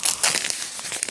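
Paper and cardboard packaging of a Thomas push-along snow toy crinkles and rustles up close, in a quick series of crisp, uneven crackles with no talking.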